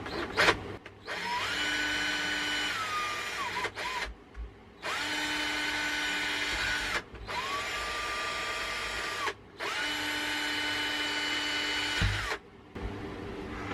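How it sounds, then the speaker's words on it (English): A power drill with a fairly small bit bores holes in a camera bracket on a workbench, whining in about five steady bursts of a few seconds each, separated by brief pauses, with no talk. "I'm just going to drill some holes with a fairly small drill bit, and then try and finish the rest with a file."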